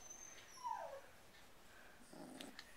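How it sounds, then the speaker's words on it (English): Three-week-old puppies give faint, brief whimpering whines, one short high whine followed a little later by softer squeaks, close by in a quiet room. "there's the video of Zaren and Orso's puppies at 3 weeks of age"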